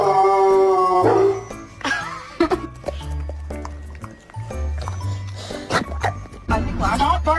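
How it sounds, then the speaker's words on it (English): A dog barks and yips in short bursts mixed with howl-like tones, close and fairly loud, with a person's voice speaking between the barks. "Stop barking at him."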